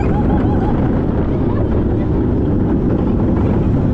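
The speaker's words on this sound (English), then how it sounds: "Look how close you get to the helicopters there." A loud, steady low rumble of rotor and engine noise fills the whole clip, like a helicopter flying close by at the Julianatoren park, with wind buffeting the microphone.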